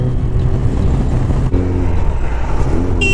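A Suzuki Hayabusa and a Ninja 1100cc motorcycle race side by side, with a loud, continuous engine roar, steady droning revs and strong wind rush close to the mic.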